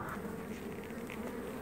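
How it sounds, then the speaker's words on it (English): Honeybees swarm around an open hive, a dense, continuous drone of many wings close by and fairly quiet, with no voices. "Oh wow, bees on the bottom side too. Bees everywhere."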